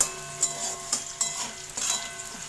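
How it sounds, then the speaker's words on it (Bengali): Potatoes fry in a pan with a steady sizzle, broken by several quick scraping stirs of a utensil against the pan, close and with no talk. "এখানে আলু ভেজে নিচ্ছি"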